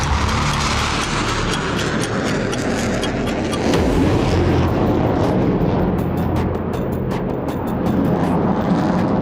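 Sukhoi jet fighters roar off a Russian airbase runway near the eastern front line in Ukraine, a loud continuous broadband rumble that swells in the middle and holds steady without voices.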